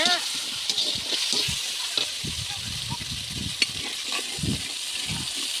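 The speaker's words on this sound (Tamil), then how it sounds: "இந்த மசாலா எண்ணெயிலே போட்டு வதக்கியாச்சு" Oily sizzling and frying hiss as masala sautés in oil for a village-style meat curry, continuous with occasional stirring clinks and scrapes, close up, with faint background noise.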